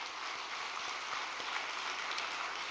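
Audience applause after a report at an overnight devotional church gathering: a steady, dense wash of many hands clapping at moderate distance, even and unbroken throughout.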